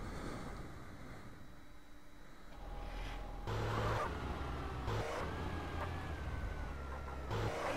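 A car in GTA San Andreas drives along with a quiet game engine hum that steps up in loudness and pitch through several shifts, alone and without voices.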